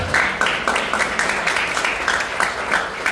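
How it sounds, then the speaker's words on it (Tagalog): A small audience claps at an event at an MMA academy, producing a run of quick, evenly spaced claps at moderate volume with no voices over them. "Ikaw yung unang pumalakpak."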